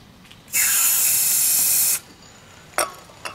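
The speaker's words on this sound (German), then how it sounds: "Ich mache jetzt mal die Drosselklappe auf, sprühe hier mal Startpilot rein." Starting fluid sprayed into the open throttle of a 20-year-old Malaguti Yesterday 50 scooter: one steady, close hiss of about one and a half seconds, then a couple of short clicks and taps.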